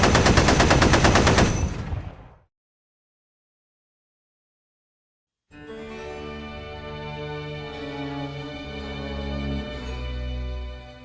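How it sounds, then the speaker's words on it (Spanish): Bursts of automatic gunfire in a film scene rattle loudly for about two seconds, then stop abruptly into silence before a swelling orchestral score takes over. "lo único que escuchamos son disparos"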